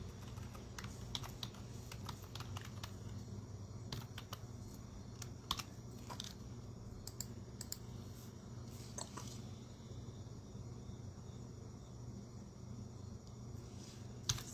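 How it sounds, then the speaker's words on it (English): Soft, irregular clicking of typing on a computer keyboard, quiet and close, running steadily over a low background hum with no speech. "just give me a second as I type everything in"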